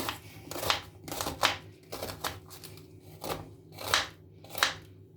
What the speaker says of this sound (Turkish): Hemen bir tane de soğanımı doğrayacağım.